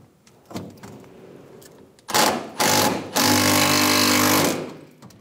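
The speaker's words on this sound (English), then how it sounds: "Using a 12 millimeter socket, we're going to remove the bolt for the fuel neck bracket." A 12 mm socket on a powered tool removes the fuel filler neck bracket bolt on a 2005-2015 Toyota Tacoma 2.7L. A few light clicks come first, then loud, close buzzing bursts of the tool spinning the bolt out.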